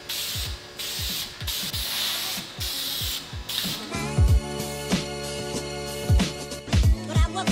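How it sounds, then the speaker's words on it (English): A Dupli-Color vinyl and fabric aerosol spray can sprays glossy black onto car interior trim panels, hissing in several bursts, with low thumping knocks between sprays and a busier, louder stretch of spraying toward the end. "we're gonna go with the classic vinyl and fabric spray by Dupli Color"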